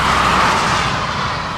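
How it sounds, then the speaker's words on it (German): A continuous broadband roar of passing vehicles from a nearby German federal highway, steady and fairly loud with no voices. "Jetzt ist direkt die Bundesstraße zu hören."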